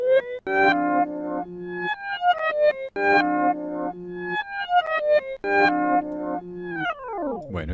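A piano recording played backwards, with reversed notes swelling up and cutting off sharply in a repeating pattern of chords, ending with a long sweeping reversed decay.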